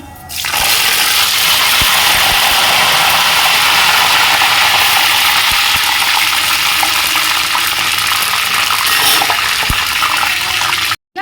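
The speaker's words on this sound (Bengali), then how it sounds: "এই যে মৌরি ফোড়ন দিলাম, দুটো কারি পাতা ফোড়ন দিচ্ছি" Loud, steady hissing sizzle of fennel seeds and curry leaves dropped into hot oil while starting a Bengali chicken kosha, continuous for about ten seconds with no talking.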